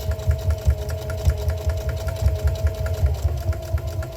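Sewing machine stitching a washable, reusable kitchen sponge stuffed with polyfill, a fast steady mechanical whir with a quick repeating needle thump, close and continuous with no talking.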